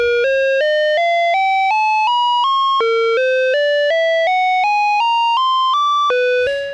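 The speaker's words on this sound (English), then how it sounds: "So the sampling is taking place on this slow sawtooth wave, and you can hear it as the saw goes up" A Korg ARP 2600M synthesizer runs sample and hold driven by a slow sawtooth, giving a loud, clean, rapid stepped sequence of tones that climb in even steps then drop back to the bottom, repeating twice.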